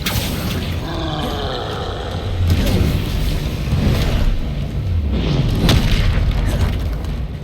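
Troll in the Hogwarts Legacy game roars and grunts amid heavy booms and crashing impacts from a fight, loud and dense throughout.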